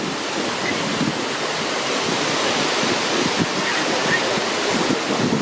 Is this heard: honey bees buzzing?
no